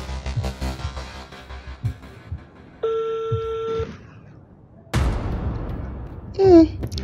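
A telephone rings unanswered in a Bambara-language feature film: one sustained electronic ring burst of about a second sits between other household noises and a sudden rush of sound.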